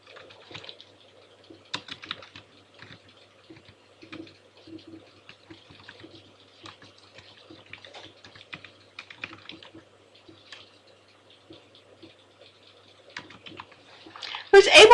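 Typing on a computer keyboard while editing spreadsheet data: steady, fairly quiet clicking of keys in irregular bursts over a long stretch, with a louder clatter at the very end.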